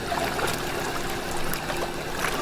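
Cold plunge tub water jets at motor speed 3 churn and gurgle in a constant, fairly loud rush, with small splashes breaking through and no voices.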